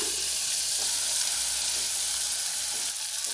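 Ground masala paste goes into a hot pan for a buttermilk curry, producing a continuous broad frying hiss and sizzle with light stirring, close and even throughout.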